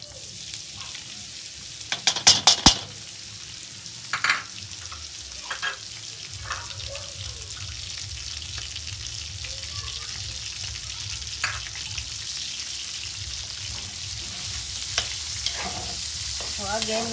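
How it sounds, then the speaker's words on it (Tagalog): Ham frying in a pan for cream carbonara, a steady bright sizzle that runs throughout, with a few sharp clatters of stirring near the start. "Para lang din magkaroon siya ng texture, kaya natin siya ipa-fry."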